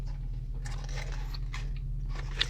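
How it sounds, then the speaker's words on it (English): Close-up chewing right against a headset microphone: crunchy bites and wet mastication come in uneven bursts, loud and intimate, with no talking. "that way y'all hear me chewing. in your ear."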